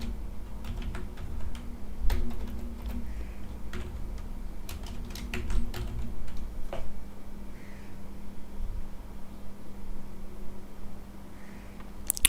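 Steady, moderately close typing on a computer keyboard as React code is written, with irregular clusters of key clicks and occasional sharper taps over a low, constant background hum.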